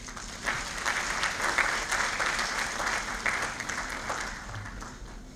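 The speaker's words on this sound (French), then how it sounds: "Sous vos applaudissements, je vous en prie." Steady applause from a room full of people at a lawyers' congress opening ceremony, dense clapping sustained at an even level throughout without pause.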